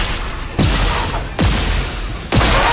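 Gunfire in the sci-fi horror game Dead Space: three loud, heavy blasts about a second apart, each a sharp broadband burst with a booming tail, close and alone with no talk.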